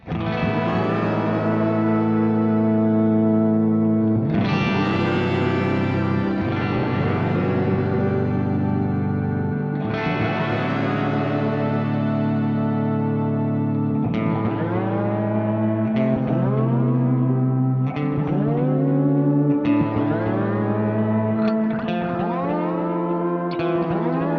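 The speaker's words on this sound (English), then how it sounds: "It's got a pitch shift going on" Guitar chords ring through a lo-fi effects pedal, swelling and warbling with pitch-shifted, echoing tails that bend and smear between strums.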